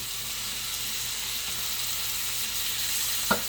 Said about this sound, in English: I like to cook all the beef with butter